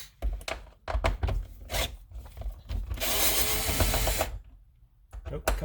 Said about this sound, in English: you'll take out 2 Torx fasteners right here